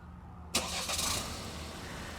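Chevy Trailblazer engine cranking and catching after a remote start from the key fob, a sudden broadband burst settling into a steady idle, close by with no talk.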